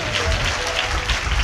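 A church congregation claps together during a Christmas sermon: a dense, steady wash of applause from many hands, fairly loud and close, with a faint voice underneath.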